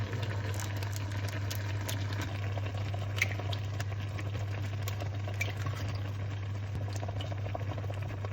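Continuous bubbling and soft rattling of water at a boil in a pot, steady and close, over a low constant hum, with no voices.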